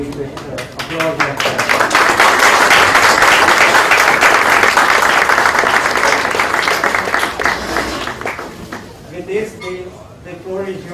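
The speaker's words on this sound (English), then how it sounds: "we all request you to carry with applause" An audience at an accounting conference in India bursts into loud sustained applause, many hands clapping densely for several seconds before thinning out, with voices heard near the end.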